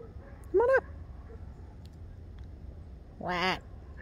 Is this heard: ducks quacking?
yes